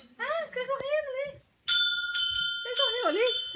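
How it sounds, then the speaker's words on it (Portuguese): A small bell received as a birthday gift rings with bright, sustained metallic tones after a stretch of close talking, while voices, including a child's, continue over the ringing during a visit from monkeys. "Eu ganhei esse sino de presente um dia de meu aniversário."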